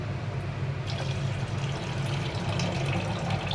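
Spilled sugar is rinsed with running water in a home kitchen, a steady close splashing and trickle of water throughout, moderately quiet with no speech.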